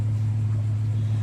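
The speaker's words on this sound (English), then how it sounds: "There's a huge truck that just pulled over, so that's the noise you're hearing." A large truck pulled over nearby, heard as a steady, loud low engine hum and rumble that fills the whole short stretch without any change.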